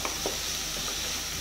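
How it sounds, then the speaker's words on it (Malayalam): Onions sauté with salt in a pan, making a soft, continuous sizzle for a short moment, close and even. "ഇനി നമുക്ക് ഈ സവാളയിലേക്ക് ആവശ്യത്തിനുള്ള ഉപ്പ് മാത്രം ചേർത്ത് കൊടുക്കാം"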